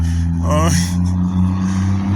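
A passing car revving its engine, a steady low drone with a brief rising rev, heard beneath someone talking close by.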